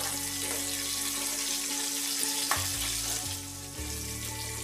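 Sliced onion and cut green chillies frying in a pan, giving a continuous close sizzle that softens slightly partway through, with faint low background hum and no talking.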